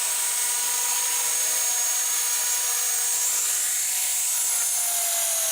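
An Ares Optim 300 CP RC helicopter whines at a constant high pitch as it comes in to land on a road, with a steady loud buzz and a slowly falling rotor tone near the end.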